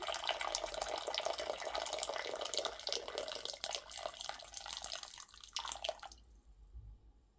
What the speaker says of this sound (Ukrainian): Сире яйце відразу на 2-3 хвилини заливаємо кип'ятком.